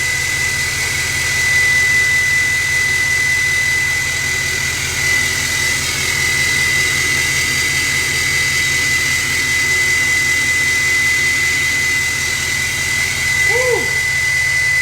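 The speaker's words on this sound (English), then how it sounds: "I think the new turbocharger really changes the sound of this truck too" A steady, loud Duramax L5P diesel truck engine drone with a high whine from a new turbocharger running throughout, sounding almost like a jet; a brief voice-like chirp near the end.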